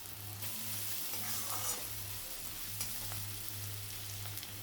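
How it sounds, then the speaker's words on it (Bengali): Onions frying in oil in a pan for katla fish dopiaza, a steady broadband sizzle with a low constant hum underneath and a few soft clinks, continuous and close with no talking. "পেঁয়াজটা 2 থেকে 3 মিনিট ভেজে নিলাম।"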